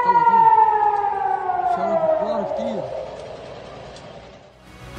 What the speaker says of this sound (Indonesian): sirene peringatan serangan udara menggema di berbagai wilayah Israel